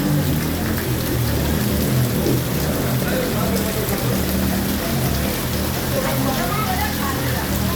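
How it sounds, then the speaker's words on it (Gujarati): Torrential rain pours onto flooded streets in Wankaner, a dense, loud, unbroken roar of water and splashing that holds steady throughout. "મિત્રો અંધાધાર વરસાદ ચાલુ છે"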